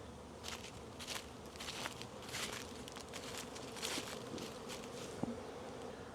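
Honeybees hum and buzz around their awakened colonies in a continuous, fairly quiet drone, with small ticks and taps scattered through it and no talk.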